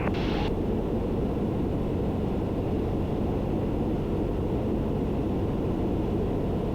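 A Piper Comanche light aircraft on short final to runway 14 at Gillespie fills the cabin with a loud, steady engine and airflow drone that stays constant and unbroken, with no voices.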